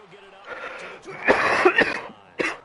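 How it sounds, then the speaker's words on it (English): Several harsh human coughs in a short cluster, close by, with a final cough after a brief pause. "If I could quit coughing, I'd be good."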